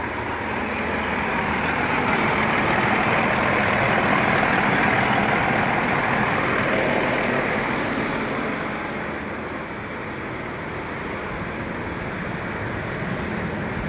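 A truck engine with a pickup problem idles with a steady, low, rumbling drone that swells slightly, then eases a little toward the end, with no voices over it.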